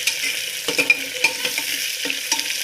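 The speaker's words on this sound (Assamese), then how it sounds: "পিঁয়াজটো অলপ ৰঙা হোৱাকৈ ভাজি ল'ব লাগিব" About three chopped onions frying and being stirred in a pan for pulao and meat, a soft crackling sizzle with a rhythmic series of spoon scrapes and taps, close and without talk.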